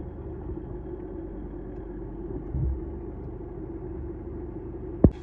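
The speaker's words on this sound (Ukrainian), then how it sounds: "повторна спроба завести газончик з буксіра" A GAZ truck being tow-started behind a passenger car: a steady low engine rumble runs throughout, with a short louder surge midway and a sharp knock near the end.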